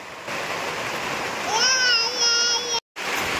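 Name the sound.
rain falling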